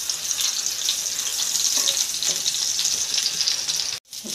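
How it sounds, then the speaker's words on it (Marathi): Chicken tawa kabab, dhaba style, fries on a hot pan over medium heat with a steady, dense, close sizzle throughout, broken by a momentary silence near the end before the crackle resumes. "आपण हे खरपूस मस्तपैकी फ्राय करून घ्यायचं"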